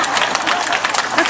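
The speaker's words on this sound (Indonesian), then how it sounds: "Tepuk tangan yang kedua kali" Loud applause from a crowd at a provincial tourism-village awards event, a dense, brief burst of clapping with possible voices mixed in.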